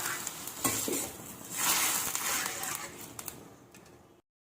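Vermicelli simmers in hot water in a pan for a sweet semiya payasam, giving a quiet, bubbling hiss broken by a few soft stirring scrapes before it cuts off.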